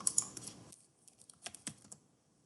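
Typing on a computer keyboard, a quick burst of close key clicks followed by a few scattered, sharper taps and then silence.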